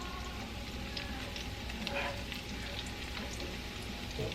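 Half an onion sizzles and fries in a large pan, giving a steady, dense crackle and hiss, close and continuous, with faint stirring clicks on top.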